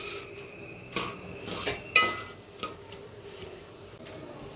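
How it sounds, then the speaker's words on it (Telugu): Roasted gram is tossed in a pan, giving a few sharp clinks and scrapes of a spoon against metal over a quiet background, close but fairly soft. "ఇప్పుడైతే పుట్నాలు అయితే వేయించుకోవాలి"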